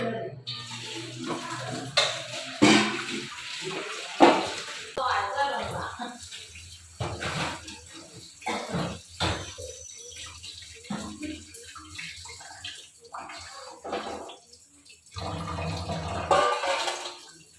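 Tap water runs and splashes in bursts as fish is rinsed by hand, with gaps, clatter and a voice speaking now and then over the flow.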